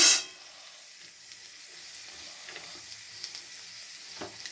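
Dried chilies fry in hot oil with a steady, soft sizzle and faint crackles, starting with a brief loud burst as they hit the pan.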